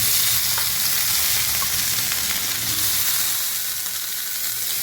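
Curry leaves fry in hot oil in a pan while being stirred, a loud continuous close sizzle with faint scraping throughout and no voices.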